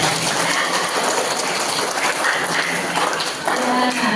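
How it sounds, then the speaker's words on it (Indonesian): Steady, dense applause from an audience for a government minister at a community session on measles prevention, loud and continuous throughout, with a brief dip near the end. "tepuk tangan dulu sama Pak Menteri di sini ya"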